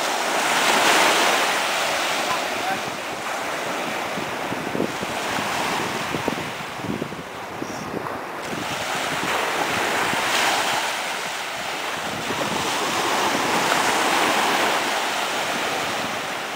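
Surf rolls onto the beach at Itaipu in Niterói, a constant wash of breaking waves mixed with gusty wind buffeting the microphone throughout.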